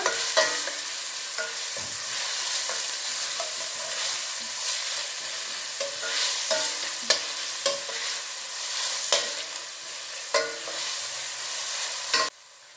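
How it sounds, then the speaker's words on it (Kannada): Onions frying in a pan for chicken liver pepper gravy, a steady sizzle with repeated scraping stirs and spoon clinks, close and fairly quiet with no talking. "ಬಣ್ಣ ಚೇಂಜ್ ಆಗೋ ತನಕ ಚೆನ್ನಾಗಿ ಫ್ರೈ ಮಾಡೋಣ"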